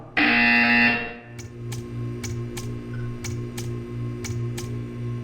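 A buzzer sounds in the video game Portal 2: one loud, bright electronic blast lasting about a second, followed by a steady mechanical ticking hum with regular sharp clicks, all clean and close with no one speaking.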